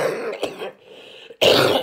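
A single throaty cough and some throat clearing, close up, with a brief quiet pause before a rough burst.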